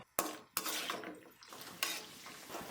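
Garlic for Kerala-style garlic pickle is stirred in a frying pan: sharp metal spoon scrapes and clinks against the pan over a soft sizzle, with a few distinct strikes and no talk.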